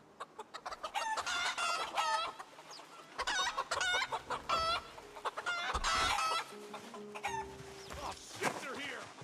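Chickens in the zombie survival game Project Zomboid cluck in repeated rhythmic bursts and a rooster crows, close and fairly loud, with a voice occasionally talking between the calls.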